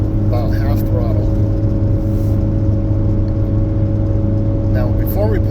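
A Cummins diesel truck engine works hard in third gear near half throttle, climbing a hill while towing a heavy camper, giving a steady loud droning hum throughout with someone talking over it.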